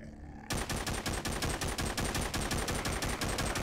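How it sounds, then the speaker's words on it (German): A machine gun in Walking Zombie 2 opens up suddenly after a brief quiet moment, then fires long, fast, evenly spaced bursts of loud, sharp shots that continue to the end. "Wie so ein schönes Maschinengewehr"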